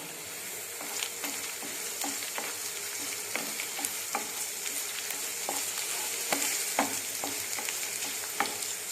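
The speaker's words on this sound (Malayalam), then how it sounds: "ഇനി അതിൻ്റെ കൂട്ടത്തിൽ വത്തൽമുളകും കറിവേപ്പിലയും കൂടി ഇട്ട് മൂപ്പിക്കുകയാണ്." Ginger sizzles in a pan with dried red chillies and curry leaves for a Kerala-style ginger curry, a dense crackling fry broken by frequent spoon stirs and scrapes, close and steady.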